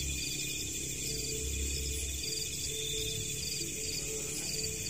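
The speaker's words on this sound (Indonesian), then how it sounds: "suara jangkrik berkurang" Crickets chirp at night as a steady, faint high-pitched drone that fills the whole stretch, with a low rumble beneath and no talk.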